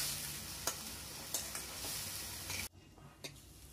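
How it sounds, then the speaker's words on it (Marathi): Chopped onion stir-fried in a pan until reddish, giving a soft steady sizzle broken by several sharp spatula scrapes, with the sizzle abruptly dropping away near the end. "हा कांदा आता आपण छान लालसर रंगावर येईपर्यंत परतून घेऊया."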